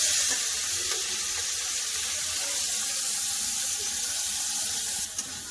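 Small shrimp frying in hot oil in a wok give a steady, loud, close sizzle that hisses without a break for the whole stretch, with no talking.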